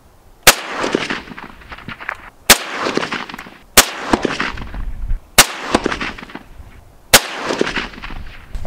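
Five loud, sharp SKS rifle shots firing 7.62x39 rounds at a half-inch-thick double steel plate, spaced roughly one to two seconds apart, each with a ringing decay and outdoor echo.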